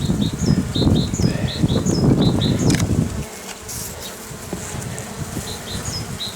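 Honey bees buzz in a dense, loud droning swarm at hives in a forest, easing to a quieter hum partway through, with small birds chirping repeatedly above it.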